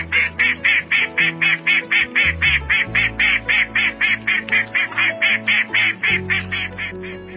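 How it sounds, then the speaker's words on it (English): Mallard duck quacking: a long, loud, evenly paced series of about twenty-five close nasal quacks, delivered alone with no talk. "Mallard"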